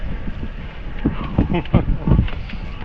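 Steady wind rushing across the microphone during parawing sailing with a 5 meter wing, a continuous low buffeting roar with speech-like bursts from a nearby voice riding over it.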